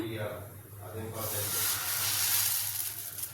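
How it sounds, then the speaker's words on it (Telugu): Onion pesarattu dosa batter hitting a hot dosa pan, a loud steady sizzle that swells and stays bright, with a low background hum. "ఇప్పుడు పెనం వేడయింది, దోశ పెనం. ఇప్పుడు దోశ వేసుకుందాం."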